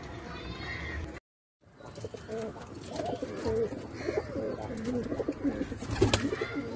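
Several fancy pigeons coo repeatedly nearby, with soft rustling and a brief silent break near the start.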